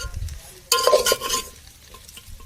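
Biryani being reheated in a pan, stirred with a utensil: a sudden burst of sizzling and scraping, loud and close, then settling into a softer steady sizzle.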